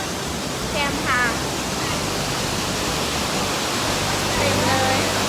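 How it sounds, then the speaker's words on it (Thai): A roadside waterfall in Xaysomboun, Laos, gives off a steady, dense roar of rushing water, and faint voices and brief chirps rise above it. "น้ำตกมันหลายเลยแกมทาง"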